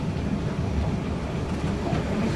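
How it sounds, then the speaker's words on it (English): The Caledonian Sleeper train runs on its rails between Dalwhinnie and Tomatin, a loud continuous low rumble with rhythmic clickety-clack from the wheels, heard from on board with no voices. "because the train's on the other side"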